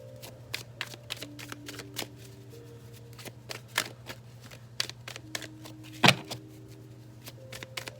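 Tarot cards are shuffled by hand during a card reading, a close run of soft rapid riffling flicks and slides, with a sharper snap near the end, over a low steady hum.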